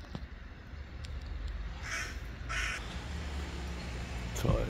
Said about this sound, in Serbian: To je to, ljudi. Gavranovi su tu.